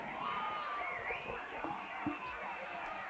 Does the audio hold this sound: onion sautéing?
no